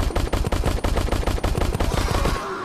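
Rapid bursts of automatic gunfire in the VR shooter Crashland on Oculus Quest 2, loud, close and continuous for over two seconds, then cutting off into a quieter hum.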